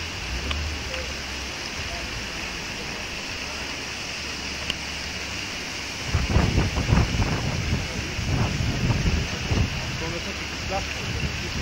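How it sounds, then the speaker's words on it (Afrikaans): Wind gusts across the microphone outdoors at a sewage farm, a steady rush that swells into heavier buffeting bursts in the second half. "Ons bly hier die windjie waai"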